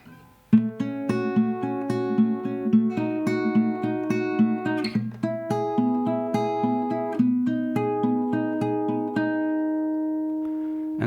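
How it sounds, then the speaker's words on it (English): A guitar plays the original intro part of a song. Clean single notes and doubled strums repeat in an even, steady rhythm, played solo and close with no talking. "The original part sounds like this."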